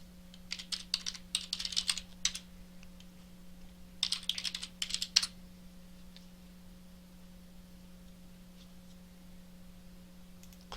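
Two bursts of quick typing on a computer keyboard while logging into a Moodle course site as a student. They are close and clear, with quiet between them and a faint steady hum underneath.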